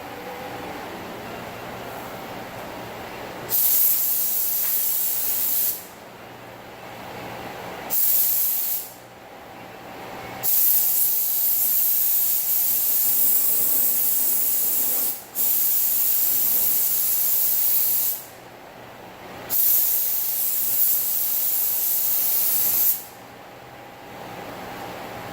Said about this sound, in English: I'll do that right before I shoot the epoxy, and then I'll let it sit overnight